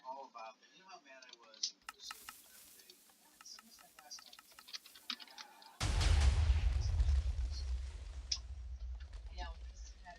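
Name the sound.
TNT cannon firing and exploding in the video game Minecraft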